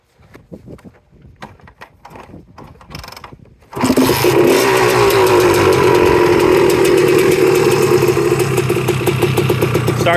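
A 1985 Honda ATC250R three-wheeler with an aftermarket muffler is kicked over with several mechanical clunks, then fires up abruptly into a loud, raspy two-stroke idle that holds steady close by.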